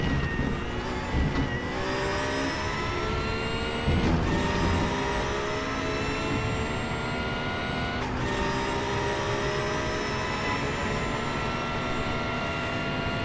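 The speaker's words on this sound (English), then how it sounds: "Let's ride on board with the Porsche" A Porsche GT3 race car heard onboard during a RaceRoom league race at Silverstone, its engine droning loud and steady with rising and falling revs and brief dips at gear shifts.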